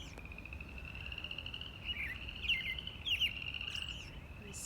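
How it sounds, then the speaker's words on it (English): Bird calls ring out in a spring morning chorus, with a steady high whistle-like tone and brief chirps over a low rumble of outdoor background; robin calls are part of the chorus, and frogs may be calling too. "Spring always sounds like robin calls."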